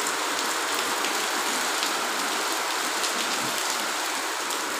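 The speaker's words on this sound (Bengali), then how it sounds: "প্রচুর বৃষ্টি পড়ছে।" Heavy rain falls outside a house in a constant, bright, close wash of spattering drops that stays unbroken for the whole stretch, with no talking.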